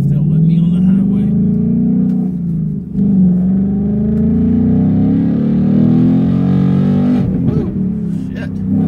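A Ford Mustang Bullitt fitted with Shelby GT350 performance parts and a cold air intake accelerates onto a highway, its engine giving a steady loud interior drone that rises slightly as it builds speed.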